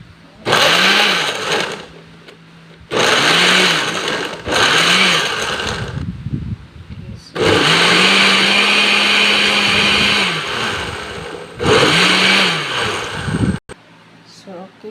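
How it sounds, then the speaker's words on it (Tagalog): A blender blending kiwi and pear whirs loudly in several separate bursts, each running a few seconds with a high motorized whine and brief pauses between. "Let's check the blender if it's still okay."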